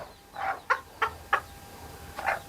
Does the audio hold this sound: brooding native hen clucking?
yes